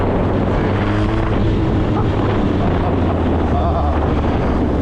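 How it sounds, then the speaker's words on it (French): A 1996 Suzuki 1200 Bandit motorcycle engine pulling hard under acceleration, a loud steady low drone mixed with heavy wind rush against the microphone. "à peine on effleure la poignée de gaz et la moto elle part"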